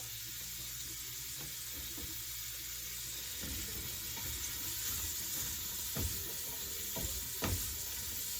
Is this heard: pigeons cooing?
no